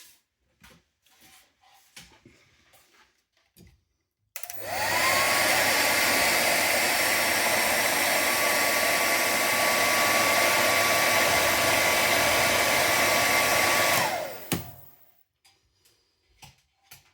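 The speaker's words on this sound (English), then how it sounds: "I'll just give it a quick flick with the hairdryer" A hair dryer switches on abruptly and blows loudly and steadily for about ten seconds over a salmon tube fly being tied, then winds down, with faint ticking before and after.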